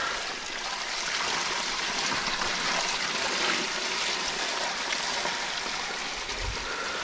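A garden water supply overflows, water pouring and rushing continuously in a steady, loud splashing flow close by with no pauses.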